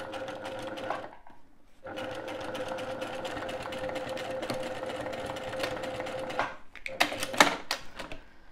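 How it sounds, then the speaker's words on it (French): A sewing machine stitches a toiletry bag with red piping, a steady fast mechanical whir running several seconds after a short pause, then stopping with a few clicks and handling noises, close and without talk. "Hop, et je termine la couture."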